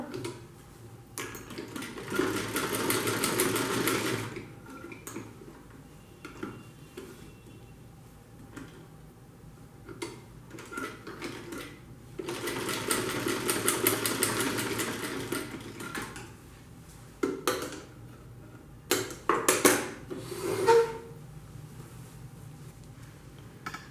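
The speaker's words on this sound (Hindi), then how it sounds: "देखो इसी तरीके से हम सिलाई करेंगे।" A sewing machine stitches a handbag in two long runs of steady mechanical whirring with pauses between, followed by short bursts near the end, heard close up with no talk.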